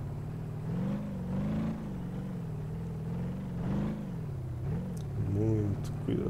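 In BeamNG.drive, a 1972 Gavril Bandit's engine surges and eases in repeated revving swells, then climbs sharply near the end, with a voice talking over the engine noise.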